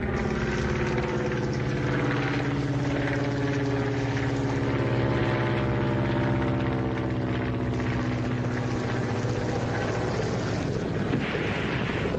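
A 1940s propeller airplane comes in to land, its engine droning loudly and steadily with a slowly shifting pitch as it approaches, no voices heard.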